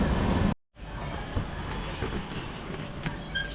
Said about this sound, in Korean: 기차가 왜 있냐 여기.